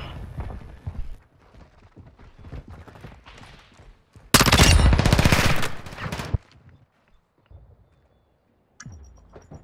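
Automatic gunfire from Call of Duty MW2 during a Search and Destroy match. It comes as one loud, rapid burst of about two seconds, with lighter in-game clicks and shots before it and a few faint ones after.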